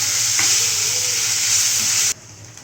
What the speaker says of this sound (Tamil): இது ஒரு 5 மினிட்ஸ் நல்லா வதங்கட்டும்